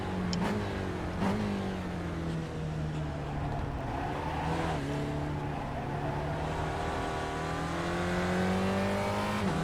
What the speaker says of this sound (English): Just barely blipping the throttle there.